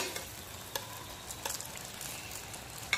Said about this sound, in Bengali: উল্টে দিয়ে আরেক সাইডটাও ধীরে ধীরে একটু সময় নিয়ে কিন্তু এগুলোকে যদি ভাজা হয় তাহলে কিন্তু খুব সুন্দর